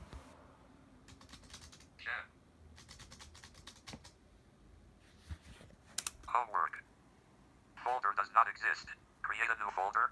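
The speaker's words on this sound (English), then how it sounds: "And I'm going to type chem homework." Keys are pressed on a BrailleNote Apex braille keyboard to type a folder name. Quiet clicking comes in short bursts and alternates with synthetic speech feedback from the device.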